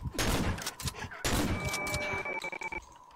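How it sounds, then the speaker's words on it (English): Gunfire in the horror video game Cry of Fear, a burst of loud point-blank shots with sharp cracks and echoing tails, followed by scattered thuds and scrapes. "Two shots to kill someone at point blank."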